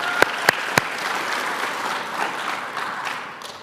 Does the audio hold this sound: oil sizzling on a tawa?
no